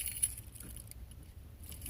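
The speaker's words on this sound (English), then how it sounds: "Let me move my keys out the way." Household keys jingle briefly as they are moved aside on a kitchen counter, a short light metallic clatter close by with no talk over it.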